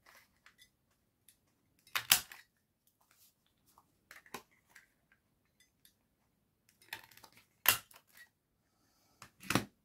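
Paper pieces for a memo pad being stamped out with a craft punch, giving sharp clacking thumps in a few separate bursts with quiet gaps between them and lighter taps scattered around.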